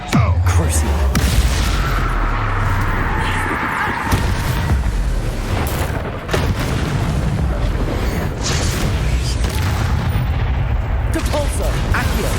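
Booming spell blasts and crashing impacts from Hogwarts Legacy ring out in rapid succession, a dense barrage of magical combat effects with a shouted incantation mixed among them.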